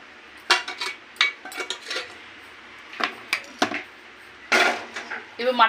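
Pieces of mutton are moved into a vessel amid a string of sharp metallic clinks and clatters of pots and utensils, irregular and close, with a voice talking in between.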